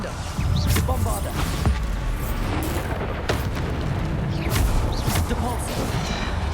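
Bombarda explosion spells in Hogwarts Legacy go off as loud booming blasts, several in quick succession over rumbling combat noise, with sharp bursts and crackling debris between them.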